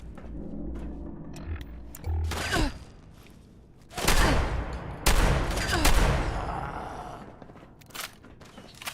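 Video game gunfire comes in several loud bursts and blasts spread across the stretch, with quieter gaps and a sighing voice between them.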